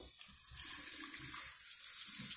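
Tap water runs steadily into a washbasin being rinsed clean after scrubbing with a rubber pad, a soft continuous splash with no talk.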